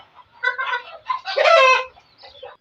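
A hen clucks beside her chick in a pet house, a close series of short, throaty clucks and a longer drawn-out squawk in the middle, alone without talk.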